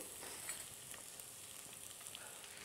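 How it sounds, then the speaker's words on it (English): Sliced onions frying in olive oil in a hot pan, giving a steady, even sizzle with faint crackles throughout, soft and close with nothing else over it. "So in a hot pan, my favorite olive oil, and we're going to start to fry off the onions."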